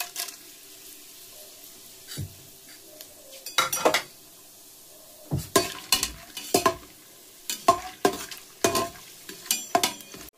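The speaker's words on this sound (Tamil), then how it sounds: "இப்போ குக்கர் சூடாயிடுச்சு, ஆயில் ஊற்றிக்கிறேன். இப்போ ஸ்பைசஸ் ஆட் பண்ணிக்கிறேன்." Whole spices in hot oil inside a pressure cooker for Dindigul biryani give a soft, quiet sizzle, broken by repeated clinks and scrapes of a metal spoon against the pot.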